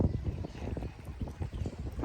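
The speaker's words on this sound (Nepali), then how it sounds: "हावा चलिरहेछ" Gusty wind blowing at Tai Mei Tuk reservoir during a fishing outing, a steady low rumble buffeting the microphone that swells and dips throughout, with no one speaking.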